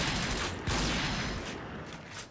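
Gunfire from the shooter video game PUBG, a burst of rapid shots followed by scattered, fading reports, fairly faint and crackling under game ambience.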